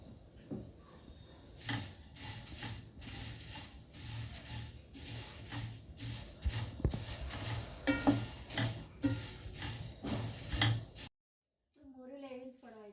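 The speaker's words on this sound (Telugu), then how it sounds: "ఇప్పుడు మూరీలు వేగించుకుందాము అవి కొంచెం గోల్డెన్ కలర్ వచ్చే వరకు వేయించుకుందాం" Puffed rice (murmura) roasting in a pan while being stirred toward golden, a steady dry rustling and scraping with spoon knocks against the metal, close and fairly quiet, with a short break near the end and a voice afterward.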